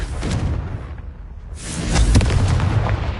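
A Confringo blasting spell bursts in Hogwarts Legacy, a heavy booming explosion with a rumbling low-end thud, briefly dropping away before a second loud blast swells back in.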